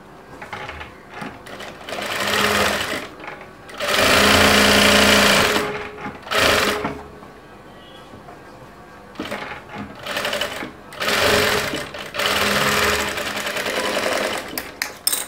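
A sewing machine stitches the front part of a princess-cut padded blouse, running in several loud bursts of steady whirring with short pauses between them and no talking.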